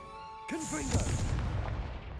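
A Confringo fire spell goes off in Hogwarts Legacy. A short voiced shout is followed by a broad, roaring blast that fills the rest of the moment and then slowly fades.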